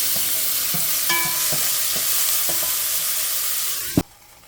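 Garlic sautéing in a hot pan, a steady bright sizzle with scattered utensil clicks and a sharp clatter before the sizzle drops away abruptly.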